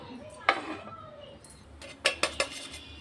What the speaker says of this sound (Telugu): వేసుకొని స్టవ్ పైన దోశ పాన్ పెట్టాను.